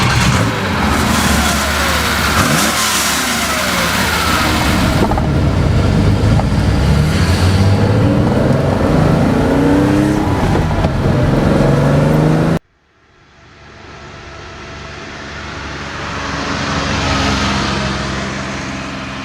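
A Porsche 911 engine in Need for Speed Porsche Unleashed revs hard and loud with rising and falling sweeps. It cuts off abruptly, then a quieter, more distant engine hum swells back up and fades.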